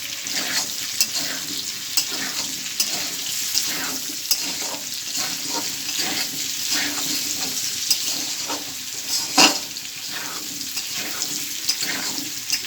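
Chicken, potato and pumpkin curry is stirred in a pan, a steady close sizzle broken by a regular rhythm of spoon scrapes and soft knocks, with no one talking.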